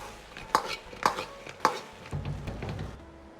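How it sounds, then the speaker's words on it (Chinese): Spatula clatters in a wok as sliced lotus root is quickly tossed through thick sweet and sour sauce, three sharp knocks at an even pace followed by a low rustling stir, close and fairly quiet, with no voices. "快速的翻炒均匀酱汁"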